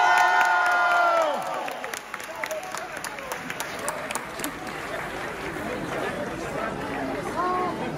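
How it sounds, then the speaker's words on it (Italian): A crowd at a live concert in Cassano Magnano, 2023, roaring with applause and cheers after a voice speaks over the sound system, the noise building into a loud, sustained wash with scattered shouts. "Voglio un grande, grandissimo applauso, un grande urlo per l'ammiraglio."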